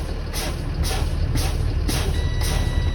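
A stationary truck's air system runs near and loud as the compressor builds brake pressure, a steady engine rumble under a regular series of short high-pitched beeps roughly every half second.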